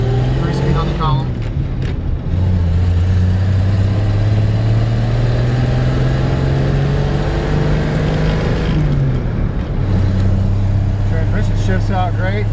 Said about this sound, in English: It's got the original inline 6. Runs strong.